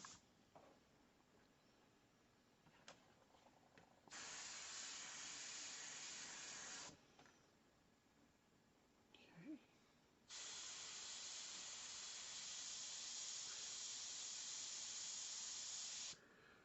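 Airbrush spraying out leftover red paint in two long steady hissing bursts, each several seconds, with quieter gaps and faint handling noises between them.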